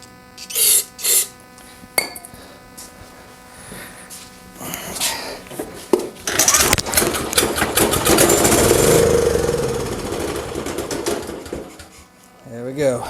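A Ridgid 8500 generator with a Yamaha engine fires up after a few short cranking pulls, runs roughly for several seconds, then dies and falls quiet, heard close and fairly loud.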